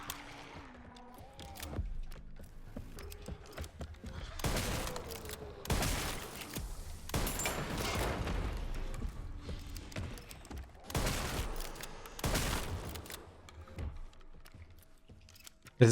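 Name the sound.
shotgun firing in Resident Evil Requiem video game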